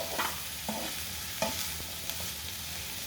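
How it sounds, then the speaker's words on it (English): Eggplant cooking in a tablespoon or so of oil until soft and golden, a soft continuous sizzle with a few short spatula scrapes spaced about a second apart, close but fairly quiet, no voices. "I'm going to allow this to cook until it's golden brown, or you can see as well when the aubergines or eggplants have softened"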